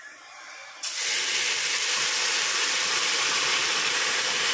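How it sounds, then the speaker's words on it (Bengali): Hot water hits fried lentils in a pan, breaking into a sudden loud, sustained sizzle and steamy hiss after a quieter moment, filling the space close up without letting off. "এবারে গরম জল দিয়ে দিই।"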